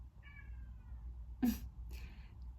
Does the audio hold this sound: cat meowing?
yes